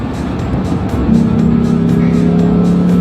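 A 2013 sports sedan on a race track drones steadily at high revs, its engine note rising and then holding flat as the electronic limiter cuts in, with the sound loud and close, as if heard from inside the car.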